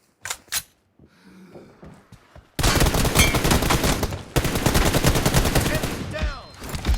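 Video game gunfire, a couple of sharp early shots, then dense sustained automatic fire in loud rapid bursts, with brief pauses and quieter sounds between.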